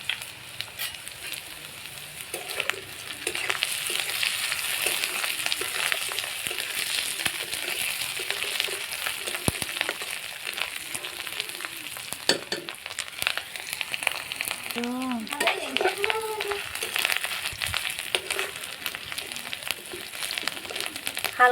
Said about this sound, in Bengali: এগুলো দিয়ে দেবো। পেঁয়াজের সঙ্গে ভেজে নেব।